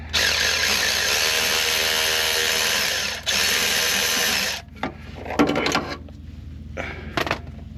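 A power tool backing out 10 mm bolts from the inspection dust cover on a 2007 Chevrolet Tahoe during an engine rebuild: a loud, steady whir for several seconds, then short mechanical bursts and clanks as the tool stops and restarts.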